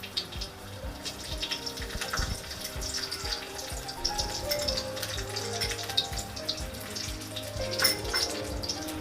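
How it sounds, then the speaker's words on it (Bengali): Raisins and cashews fry in hot ghee with a soft, continuous crackle and bubbling, close but fairly quiet, with small pops scattered throughout and no voices. "এই দুটো খুব ভালোভাবে ভেজে নিব প্রায় 30 সেকেন্ডের মতো।"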